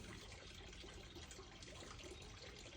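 A garden water fountain in Northern California trickles faintly and steadily in the background, a soft, continuous splash of running water with no voices.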